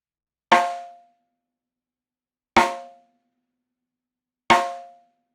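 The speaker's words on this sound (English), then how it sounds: "you could even go below that circle and get a real twangy sound like this." Three sharp, ringing rim shots on a snare drum struck below the center, evenly spaced about two seconds apart, each with a twangy metallic tone that decays quickly into silence.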